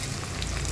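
Ginger garlic paste hits a hot pan with a brief, loud, dense sizzling hiss heard up close and alone.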